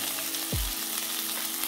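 Mushrooms sizzling in a frying pan for a Tamil kaalan gravy alongside green chillies, a steady close hiss of frying with a brief clatter as ingredients are stirred, with no talking.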